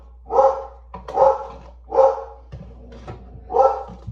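A small dog barks four times in a loose rhythm, close and clear, with a softer growling grumble between barks and no talking.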